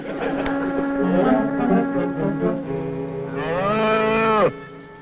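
A cow moos in long, drawn-out harmonic calls, the last one rising and swelling loudly before cutting off abruptly; close and clear with no talking.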